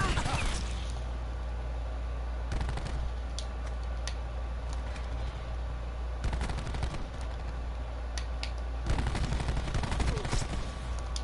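A Maddox rifle fires in Call of Duty Black Ops 4, heard as sharp, loud bursts of rapid shots in several separate volleys, with some fainter clicks between them and talk running underneath.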